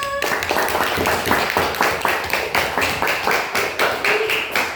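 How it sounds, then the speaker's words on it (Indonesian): A classroom of children claps hands together in a steady, rhythmic beat during an Indonesian science lesson on butterfly metamorphosis, loud and close, about a dozen evenly spaced claps. "Tepuk tangan dulu."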